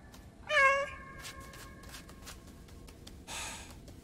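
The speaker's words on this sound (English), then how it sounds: "I just want you to get 100 meows out of your system." Cat meowing in the video game Stray, a single clear close meow followed by faint shuffling and a short breathy burst later, with no talking.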